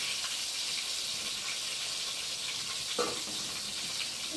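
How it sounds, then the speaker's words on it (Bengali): Snacks frying one at a time in a pan give a steady, fairly faint hiss of sizzling oil, with a single brief knock near the end and no talking. "আর এটা খাই এক এক করে ভেজে নিই"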